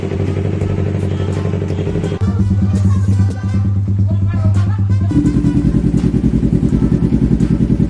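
A motorcycle fitted with an aftermarket SC-Project CRT replica exhaust revs loudly with a throaty, rumbling note, rising and settling in steady pulses close by, with no talking.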